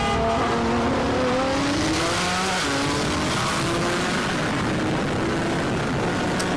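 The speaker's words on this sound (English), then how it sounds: "GTR was spinning the whole time." A Nissan GT-R street racing with its wheels spinning, a loud sustained engine roar with rising and shifting tones, dense and continuous throughout, with no voices.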